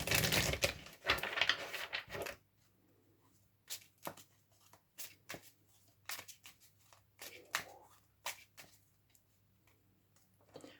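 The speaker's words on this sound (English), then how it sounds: "Let's have a quick shuffle here." Tarot cards are riffled and shuffled in a quick burst, then a series of soft, irregular taps and flicks follows as cards are handled up close.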